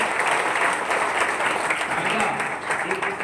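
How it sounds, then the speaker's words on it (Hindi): An audience bursts into dense, continuous applause at a de-addiction class event, a steady wash of many hands clapping throughout. "जोरदार तालियां"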